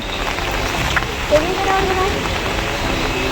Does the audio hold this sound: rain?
yes